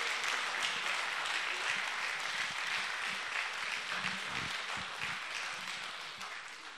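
Audience applause at a Romanian folk music festival: a broad, continuous wash of crowd clapping, heard from some distance, that slowly fades toward the end.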